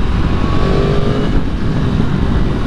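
A Yamaha MT10 motorcycle engine roaring loudly and close, a dense, sustained growl with a brief rising whine in the middle, with no voices.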